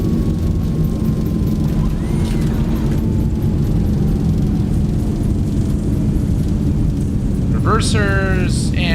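Jet thrust reversers roar on landing in a Zibo 737 in X-Plane 12, a loud steady rumble throughout, with a brief rising whine near the end.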